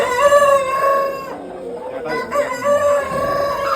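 Roosters raised for meat on a poultry farm crow loudly and close by, drawn-out calls overlapping with clucking from other birds in the flock.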